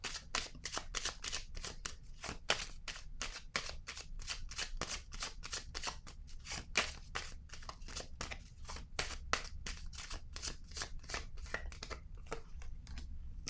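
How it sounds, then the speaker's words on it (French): Tarot cards shuffled and riffled in a long run of crisp, rapid flicks, then laid down with soft slaps, close and steady with no talking. "je vais déposer une carte en cette zone"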